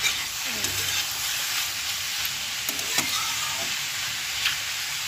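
Mushrooms with turmeric and salt stirred in a frying pan, giving a steady soft sizzle with occasional light scraping and stirring clicks throughout.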